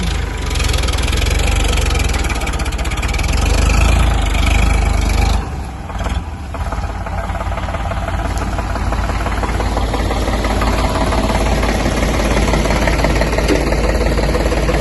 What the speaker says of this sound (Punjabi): ਐਡਾ ਟਰੈਕਟਰ ਆ ਸਲਿੱਪ ਕਢਾਈ ਜਾਂਦਾ